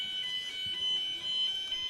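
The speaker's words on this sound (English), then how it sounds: "We've got a fire alarm up here." Fire alarm rings steadily at a county cricket ground, a continuous high electronic tone held throughout at moderate level with faint background noise and no clear talk.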